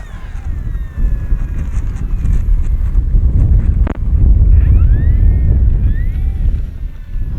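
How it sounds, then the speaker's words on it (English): Strong wind buffeting a microphone at an RC model airfield, loud continuous rumbling gusts with a sharp knock near the middle and a faint whine of a model aircraft in the distance. "Oh, that wind, man."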